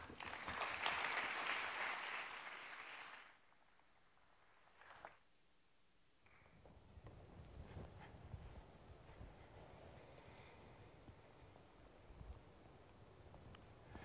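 An audience claps to welcome a speaker at a community sustainability talk. The applause is loud for about three seconds and then fades, followed by quiet room noise and faint movement.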